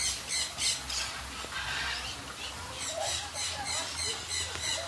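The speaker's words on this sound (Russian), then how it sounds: "И еще такая зона, где абсолютно свободно летают птицы." Birds squawk in repeated sharp bursts through a free-flight aviary zone of a jungle-themed park, moderately near amid a soft steady background hum.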